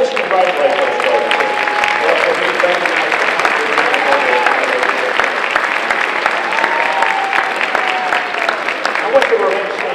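An audience applauding pin recipients at a state college system address, a steady sustained round of clapping from a large crowd, with a voice speaking over it.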